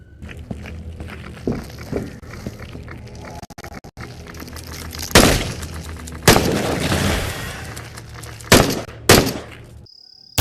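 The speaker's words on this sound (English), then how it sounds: "I'm just topping up the gun, so I got a full gun all the time." Tokarev TT33 pistol handled in the VR game Into the Radius while its magazine is topped up, with scattered soft clicks and handling noises, then several sharp loud gunshot-like bursts in the latter half, alone without talk.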